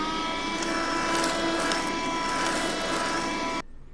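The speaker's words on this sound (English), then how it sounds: "You can hear the nuts going through the vacuum." Space toilet vacuum suction running as a loud, steady whirring roar with a tonal whine, carrying nuts through the line with faint rattles, then cutting off abruptly near the end.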